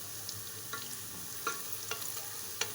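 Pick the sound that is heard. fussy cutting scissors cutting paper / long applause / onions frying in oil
onions frying in oil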